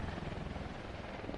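Helicopter flying in Marvel's Spider-Man, a steady, dense rotor drone held at an even level throughout, with no talk over it.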